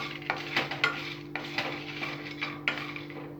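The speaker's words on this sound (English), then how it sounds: "by placing it on the heat, we just to ensure that there is no moisture, saute it a little" Chutney powder ingredients are sautéed in a pan over heat to dry them out, a steady soft sizzle with repeated scraping stirs and light clinks of a utensil against the pan, close up, with no voice.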